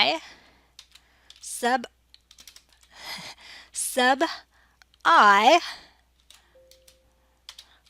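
Computer keyboard keys click in short bursts and single taps between stretches of a person speaking, close and clear while coding.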